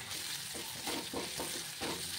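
Cut potatoes with salt, turmeric, dried red chilli and crushed garlic sizzle and fry in hot oil in a pan, a steady close hiss with soft stirring pulses.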